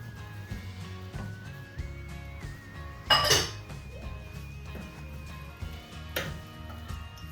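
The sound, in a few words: stirring egusi soup in a pot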